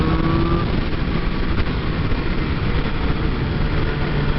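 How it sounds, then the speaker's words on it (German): A 2019 BMW S1000RR motorcycle engine accelerating loud and close, holding a steady throaty drone with a slight rise in pitch and rushing wind beneath it. "Ja, Motor läuft schön sauber."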